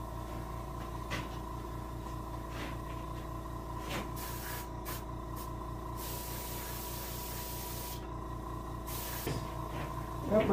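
An airbrush sprays paint in steady hissing bursts onto the fins of a brown bullhead catfish taxidermy mount, with a constant low motor hum underneath throughout.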